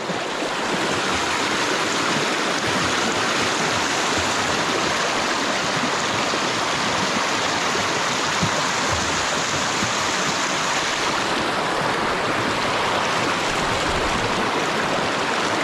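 A clean, clear river rushes steadily and loudly nearby, a continuous broad wash of flowing water with no voices.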